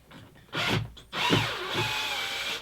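Power drill taking the panels off a guitar amp: short bursts of whirring with a rattling, ratcheting edge, then a longer steady run. Close and fairly loud, with no talk.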